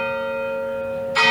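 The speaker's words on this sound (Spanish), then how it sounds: "Miren la iglesia católica. ¿Qué son las campanas?" Church bells in Jerusalem striking eleven: a sustained ringing bell tone hangs in the air, then a fresh loud strike lands near the end.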